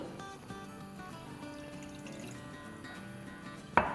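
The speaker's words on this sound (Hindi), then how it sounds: "इसमें डालते हैं आधा कप पानी" Half a cup of water poured into a small pot on a stovetop, a soft, steady trickle running for several seconds, then a brief louder splash or clatter right at the end.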